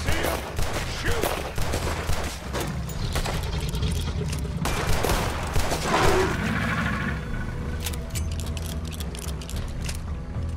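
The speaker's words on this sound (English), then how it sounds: "Put every bullet you've got in him!" Sustained gunfire at a target in the video game Red Dead Redemption 2: loud, overlapping shots in a dense fusillade that thins toward the end, over steady low background rumble.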